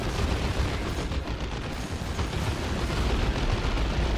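Stikk bomba grenades going off in Dawn of War 2: Retribution, a dense, continuous roar of battlefield blasts and gunfire-like crackle that stays loud and steady throughout with no clear gaps.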